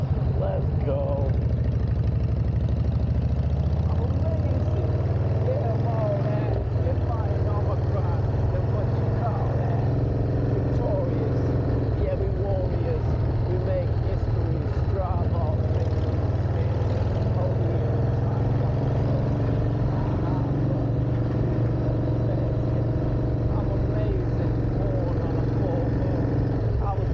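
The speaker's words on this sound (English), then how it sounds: "And I can hear the bike, and I can hear my tunes." A motorcycle engine drones steadily throughout a ride, heard through Ray-Ban Meta smart glasses, a continuous close, even hum with slight shifts in pitch and no pauses.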